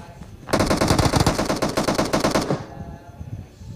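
Automatic gunfire in the mobile battle royale game PUBG Mobile, a loud, rapid burst of shots lasting about two seconds, followed by quieter scattered noises.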